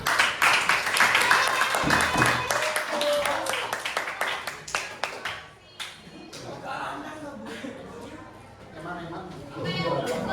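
Applause from a school class fills the room with dense, steady clapping, then thins out into scattered claps beneath murmuring voices.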